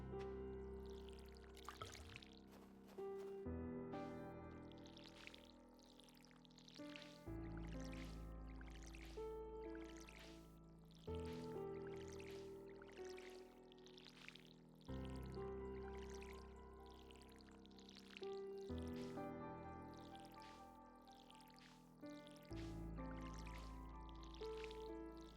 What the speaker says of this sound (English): zoning out while I water these plants